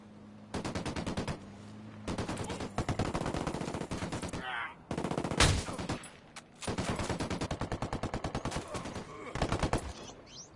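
Rapid automatic gunfire from a PS4 shooter game rattles in long sustained bursts, loud and close, with brief pauses between volleys and a sharp blast near the middle.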